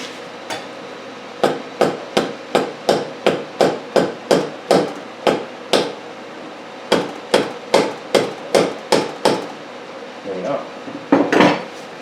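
Steady metallic hammer blows on the rear wheel of a 1971 Honda CB175 ring out in two long, evenly paced runs of about a dozen strikes each, loud and close, with a brief scuffle at the end.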